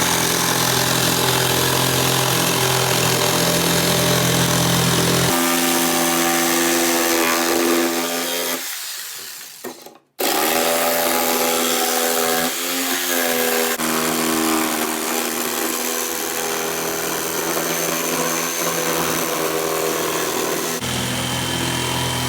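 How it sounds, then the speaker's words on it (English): A handheld jigsaw cutting a design out of a plywood sheet, buzzing loud and continuously with shifts in pitch, a brief stop near the middle before cutting resumes; no talking. "then just take a jigsaw and cut it out"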